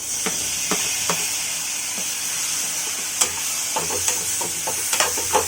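Tomatoes go into hot masala of garam masala and turmeric in a pan, giving a steady sizzle and hiss with scattered spoon scrapes and taps, close up and without speech.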